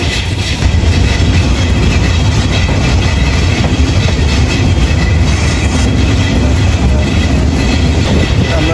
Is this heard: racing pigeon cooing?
no